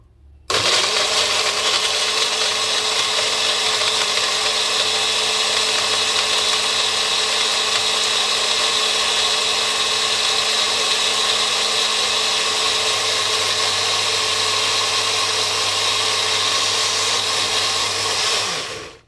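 A mixer grinder blends fruit with a little water in one loud, steady whirring run of nearly twenty seconds, starting and stopping abruptly, with no voices.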